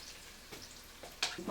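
Bacon sizzling in a frying pan during a traditional cooking workshop, a soft continuous crackle with a few louder spits near the end, close but fairly quiet.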